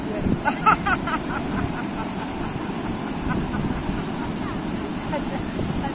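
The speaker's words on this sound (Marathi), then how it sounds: "कुदरतचं संगीत आणि समुद्राच्या लाटांचं संगीत बघा" Sea waves roll and break steadily on Vagator Beach in Goa, a broad continuous wash of surf mixed with wind buffeting the microphone, with brief faint voices near the start.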